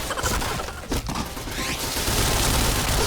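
Rapid, continuous gunfire from the battle-royale game PUBG, a loud dense barrage of overlapping shots that runs for about three seconds with only a brief dip near the one-second mark.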